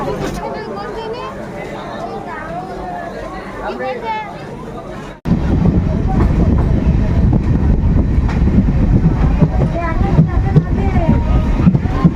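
A new MEMU local train runs from Bankura toward Howrah, a steady rattling rumble heard from inside the coach, quieter at first and then abruptly much louder, with passengers chattering throughout.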